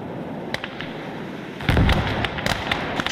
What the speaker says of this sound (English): Big mortars versus small mortar here. Rapid fire against massive fire.